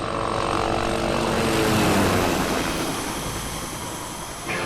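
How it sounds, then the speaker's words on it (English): A helicopter in the video game Army Men: Sarge's Heroes 2 roars loudly and steadily with a dense, whirring rotor noise that slowly fades a little toward the end. "Pretty sure that was Vicky driving that helicopter to save the day."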